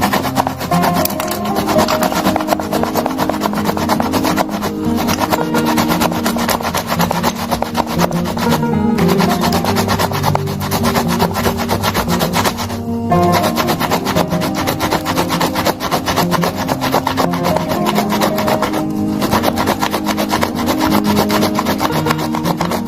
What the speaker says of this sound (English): with a grate or shredder, shred the tomato like so